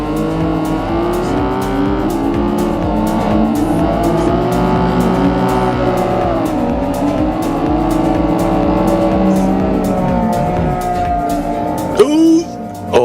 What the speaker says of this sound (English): I'm just gonna have to count the cars on the track.